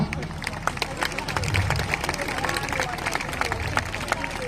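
Crowd applause at the opening ceremony of the 2025 carnival in Pichon, Basse-Terre: dense, steady clapping that lasts throughout, mixed with crowd murmur and a voice speaking.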